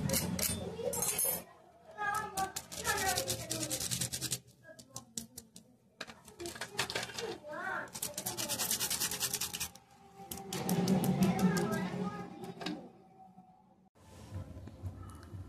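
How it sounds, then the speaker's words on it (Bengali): Crispy fried soybean kabab pakoras, street-food style, being bitten and crunched close up in repeated dry crackling bursts with short pauses between them, with no talking over the chewing. "আর কতটা কুড়মুড়ে হয়েছে আওয়াজ শুনে বুঝতেই পারছেন।"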